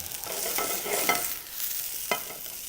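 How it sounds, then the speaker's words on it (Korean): Mushrooms sautéing in an oiled pan for a chicken thigh dish with mashed potato garnish, a bright steady sizzle with a couple of sharp spatula scrapes, close and without speech. "버섯을 넣어주고요. 은은하게 한번 익혀주는 겁니다."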